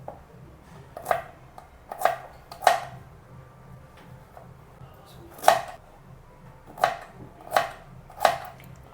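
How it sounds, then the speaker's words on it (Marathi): Knife chopping peeled, washed sweet potatoes into small pieces on a board, about eight crisp, close thuds at uneven intervals with quiet pauses between, no talk. "तर त्याचे आपण तुकडे करूया काप नाही करायचे तुकडे करायचे छोटे छोटेसे"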